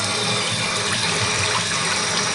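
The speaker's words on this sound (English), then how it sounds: "Good water pressure" Water runs steadily from a bathroom pedestal sink faucet with good pressure, a continuous close hiss and splash that stays even from start to finish with no voices.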